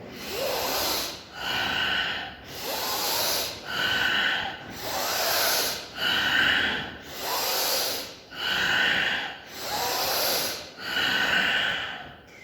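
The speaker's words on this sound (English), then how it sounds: "When I'm breathing out, I'm pushing all the air out." Forceful bhastrika pranayama breathing: close, loud, rhythmic breaths pushed in and out through the nose, about eight strong cycles in steady succession with brief pauses between, with no talking.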